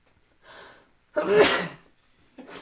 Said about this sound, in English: Sorry, I sneeze a lot.